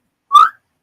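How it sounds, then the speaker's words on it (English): A single short whistle, loud and clear, rising briefly in pitch and stopping after about a quarter second, with silence before and after. "You hear a whistle from up ahead."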